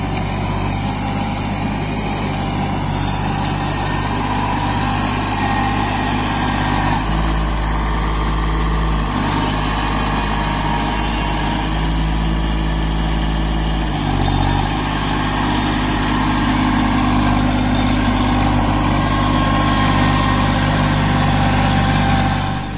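Kubota Neostar B2441 24 hp mini tractor diesel engine running steadily during puddling work in a wet field, a loud, continuous low chug that shifts load slightly partway through, with no talk.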